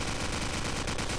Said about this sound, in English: Oh, that's a striker, not a minigun.